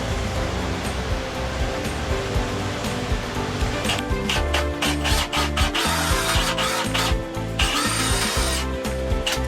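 A 1 1/4 inch hole saw bores through wood for a birdhouse build, a steady grinding, rasping drill whine with scraping bursts throughout, close and loud, with no talking.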